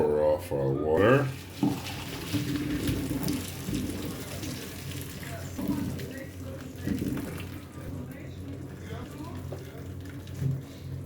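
Water poured off a pot of boiled potatoes for mashing, a gushing, splashing drain lasting several seconds with pot clatter, under intermittent talk in a home kitchen.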